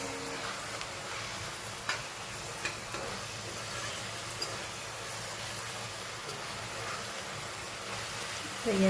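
Spiced green onion and tomato curry seasoned with red chilli powder, asafoetida and salt, stirred in a pan over a constant soft sizzle, with faint scraping taps throughout.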